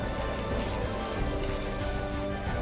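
Chopped ginger and green chili fry in a pan for Punjabi chhole, giving a dense, steady sizzle throughout that sounds close and fairly loud.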